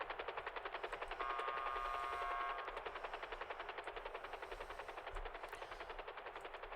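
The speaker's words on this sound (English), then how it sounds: "It's the default GTA helicopter sound." Rapid, continuous helicopter rotor chopping from the game GTA, a steady buzzing thrum that holds at an even level throughout.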